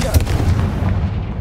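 A Confringo spell blast in the Hogwarts Legacy video game lands as a quick heavy boom with a deep low thump, a short punchy impact that fades within about a second.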